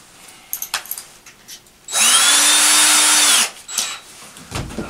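A power drill whirs steadily for about a second and a half as it bores into wood for a church handrail, with light tapping and handling noises before and after.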